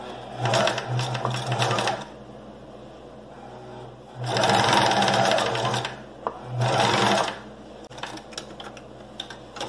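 A sewing machine stitches a fabric bag on a small stitch setting in three separate bursts of fast, rattling mechanical stitching, with quiet pauses between them, close up and with no talking.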